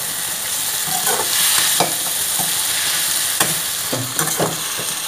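Chopped vegetables for vegetable macaroni stir-fry in a hot pan, a steady close sizzle running throughout with a few sharp clinks and scrapes of a spatula stirring.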